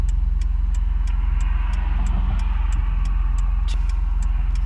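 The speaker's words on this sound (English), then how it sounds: "Boy, there are a lot of cars today." Road traffic rumbles steadily, heard from inside a vehicle, with a low continuous engine drone and a regular ticking like a turn signal clicking throughout.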